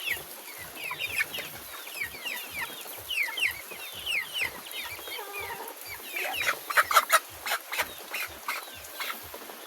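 Rhode Island Red chickens, including a rooster, cluck and murmur inside a farm cage. The calls are steady and overlapping at moderate distance over a low, regular thumping background, with a few louder squawks near the end.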